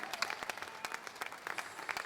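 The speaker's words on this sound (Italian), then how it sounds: "Facciamo ancora un grande applauso perché non è facile sta roba qua." Audience clapping at an outdoor live concert in Piazza Manzoni, Jesolo, for a singer and her accompanist. The applause is fairly faint and distant, with brisk, uneven individual claps forming a lively patter.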